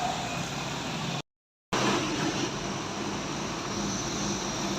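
Two Mercedes-Benz buses in Aceh in the morning, their engines droning loud and steady at close range, broken by a brief dropout partway through, with no talk over them.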